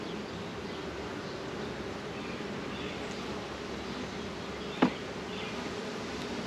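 Honey bees at a hive afflicted with small hive beetles make a steady, dense buzzing drone throughout, close and even, with one brief sharp tick near the end and no voices.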